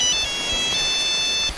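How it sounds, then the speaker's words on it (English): A phone ringtone plays for an incoming call, a loud, sustained electronic tone heard alone and close by. "Your phone is ringing."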